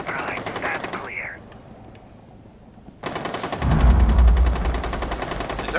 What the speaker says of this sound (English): Is that one of us shooting?